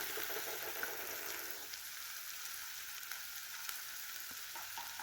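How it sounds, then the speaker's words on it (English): Noodle soup ingredients sautéing in a pan make an even, continuous sizzle that stays fairly soft and slightly eases after the first couple of seconds. "Then I saute."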